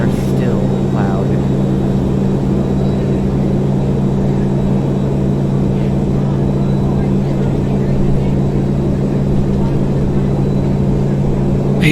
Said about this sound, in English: My goodness, these engines are still loud.